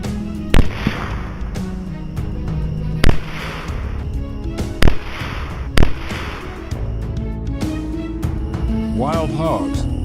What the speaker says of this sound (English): Seizing the opportunity, the two of us took precise aim and fired.